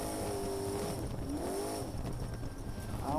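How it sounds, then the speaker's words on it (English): Two-wheel drive race trucks in the San Felipe 250 desert race roar under a constant dense wash of engine noise, with rising and falling engine pitches sweeping past. "These are two-wheel drive trucks going at it. The sound of the engine is just always so exciting."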